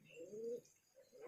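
Pigeons coo softly, low throaty murmuring calls heard faint and a little distant, with no voices.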